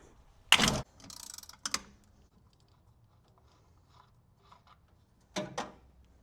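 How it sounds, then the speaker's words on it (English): Socket ratchet and metal breaker bar working the master cylinder bolts on a 1979 Ford Econoline: a sharp crack of a bolt breaking loose, a stretch of rapid ratchet clicking, then quiet handling and another pair of clacks near the end. "Your next step is going to be to remove these bolts."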